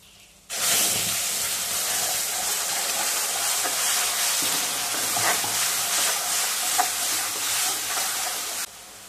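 Ground spice paste and spices sizzle steadily in hot oil in a pan over a low flame, a loud continuous hiss that starts abruptly and cuts off after several seconds, with no voices.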